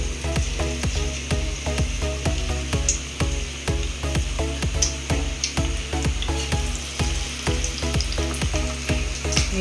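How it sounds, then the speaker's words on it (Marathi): Manchurian balls sizzling in hot oil in a wok, a loud close bubbling fry with rapid regular pops and crackles over a steady hiss. "तेल गरम झाल्यावर त्यात आपण एक मंचुरियन टाकणार आहोत।"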